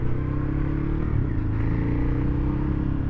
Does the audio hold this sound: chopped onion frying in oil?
no